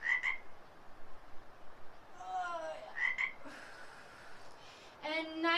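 A frog croaks repeatedly during an indoor stretch class, its short raspy calls coming in separate bursts, faint and fairly distant against quiet room noise.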